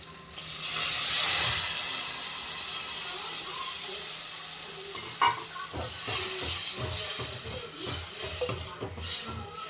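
Spices and peanuts crackle and sizzle loudly in hot ghee, a steady frying hiss with occasional stirring scrapes and pops, no voices.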